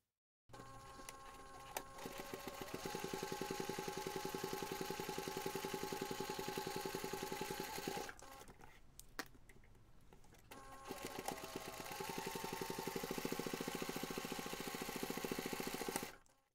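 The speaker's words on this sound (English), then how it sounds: "you can take this to the machine and top stitch along those two longer edges" A sewing machine runs steadily while top stitching the long edges of a fabric backpack, a close, even mechanical whir that pauses briefly midway and then resumes for several more seconds.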